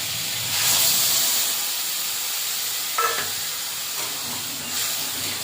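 Water poured into a hot pan of mustard paste and sautéed vegetables for a Bengali river-fish curry with brinjal and potato, giving a steady, loud steam hiss that swells near the start and end.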